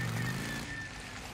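Faint, steady hum of a motorcycle engine as the rider travels in the game Days Gone, a low drone with a brief rise in pitch, heard alone without talk.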